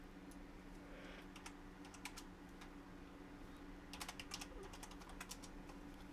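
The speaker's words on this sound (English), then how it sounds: "I'm just typing something here really quick." Quick typing on a computer keyboard, soft and close in a quiet room, coming in short bursts of clicking keys with pauses between them and no talking.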